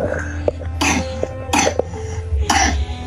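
Several harsh, wet coughs burst out close by in quick succession, three or four fits spread over a few seconds with a low steady hum underneath.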